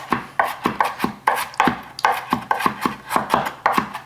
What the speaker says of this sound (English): Now I'm going to chop these. So get them diced up.